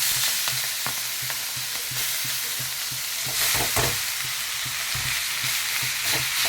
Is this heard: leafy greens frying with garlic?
yes